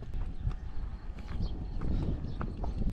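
A horse carries a rider along a village road in Russia's Orenburg region, its hooves clip-clopping in a quick steady rhythm over a constant rumbling background.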